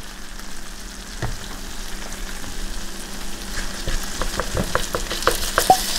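Eggs frying in a pan for keto huevos rancheros, a steady close sizzle with sharper crackles and pops that grow busier toward the end, no voices.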